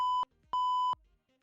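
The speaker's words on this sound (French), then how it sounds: "J'ai mon bip de censure si jamais je dis des bêtises." A censorship bleep on a Call of Duty: Warzone livestream sounds as two loud, steady electronic tones: a short one, then a longer one after a brief gap, with nothing else audible.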